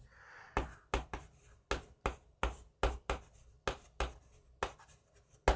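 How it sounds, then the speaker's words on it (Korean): Chalk or marker strikes on a board during an economics exam review lecture in Korean, a dozen sharp taps and short strokes in an uneven rhythm, close and clear with no talk over them. "여기다가 지금 다시 한번 써볼게요"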